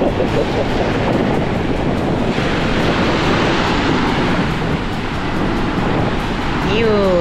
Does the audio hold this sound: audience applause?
no